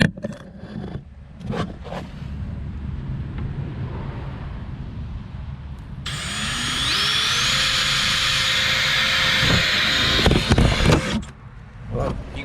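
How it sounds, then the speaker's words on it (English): A power drill whines up to speed and runs steadily while cutting out dimples in a Corvette quarter panel, close and fairly loud, after several seconds of handling noise and faint background hum. "and we'll drill that out."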